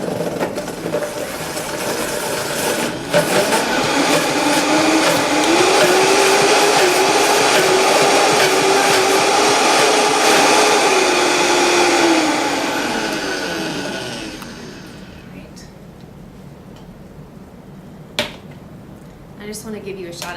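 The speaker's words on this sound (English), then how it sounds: "go ahead and turn on the blender" A blender on its low setting churns a frozen acai bowl mixture with frozen yogurt, whirring steadily for about twelve seconds with a slowly shifting pitch before it cuts off, leaving quiet handling noises.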